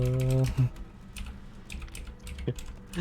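Quick clicks of typing on a computer keyboard, a short burst of light keystrokes against a quiet background after a brief tone at the start.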